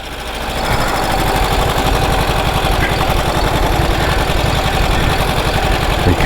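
A 108-year-old Harley-Davidson motorcycle engine idles close by, a loud, steady, rapid mechanical chugging with even rhythm throughout.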